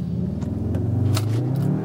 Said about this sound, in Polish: Och, przejedzie samochód z przeciwka.